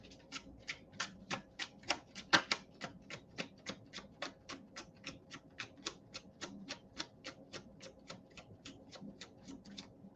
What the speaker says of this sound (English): that was a good shuffle